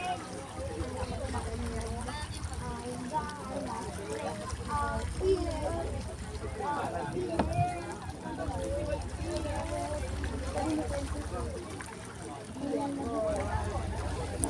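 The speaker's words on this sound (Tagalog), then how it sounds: "Marahan na lamang po ang takbo ng makina para sakto at sigurado." A boat's engine runs slowly as it eases up to the pier at Patnanungan Island in Quezon, a steady low rumble with water sounds and voices talking nearby throughout.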